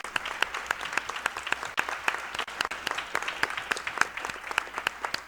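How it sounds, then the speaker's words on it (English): An audience at an internet governance workshop applauds a panel, with sustained, moderately distant clapping full of sharp individual claps throughout. "Let's give the table an applause."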